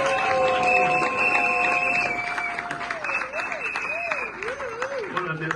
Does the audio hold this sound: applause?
yes